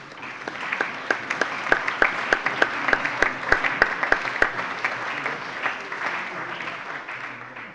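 Members of a parliamentary plenary session applaud for a colleague's birthday, broad crowd clapping punctuated by a run of sharp, evenly spaced, louder claps from nearby hands before settling into a steady patter.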